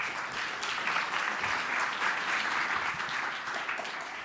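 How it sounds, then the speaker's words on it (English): An audience applauds a conference speaker, a steady round of clapping from many hands that holds for several seconds at moderate volume before easing off slightly at the end. "Warm round of applause for Sadik Kapadia here."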